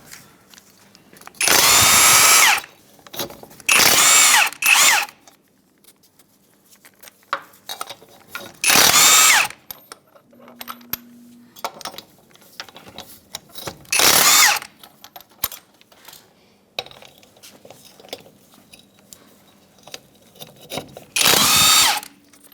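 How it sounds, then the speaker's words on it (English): A power tool removes the lug locks from the wheel studs of a 1992-1996 Ford F-150, running in loud, close whirring bursts of a second or two each, about six times, with quiet clinks and handling noises in between. "Our vehicle has locks on every lug stud, so we're just going to remove those with the lock key."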